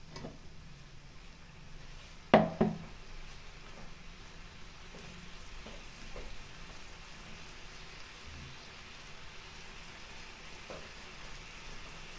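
Ground coconut spice paste drops into a pan of sautéed chillies with one sharp splat, then a soft, steady sizzle continues quietly with no talking.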